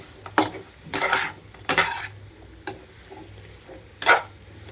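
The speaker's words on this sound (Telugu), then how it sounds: "అందుకే గరిట వెనక్కి పెట్టి తిప్పుతున్నాను" The back of a ladle stirs pieces of spicy chicken fry in a pan with curry leaves, giving several separate metallic scrapes and knocks over a faint sizzle.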